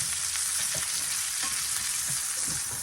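Steak pan-frying on a home stovetop, a steady loud hiss and crackle of sizzling fat that fills the whole stretch, with faint clinks and stirring movements underneath.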